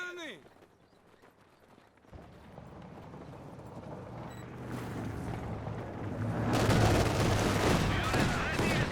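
Heavy mortar blasts and Maxim machine gun fire in the strategy game Company of Heroes 2, building from sparse thuds to a loud sustained barrage of rattling gunfire and booms while a commentator talks over it.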